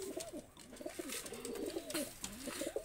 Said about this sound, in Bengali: তো দুইটা কবুতর আমি ছেড়ে দেখাচ্ছি